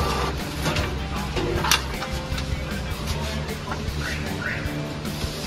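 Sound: Epson EcoTank L4260 ink tank printer printing a page

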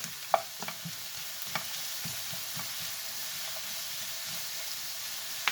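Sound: sautéing peppers in butter in a pan

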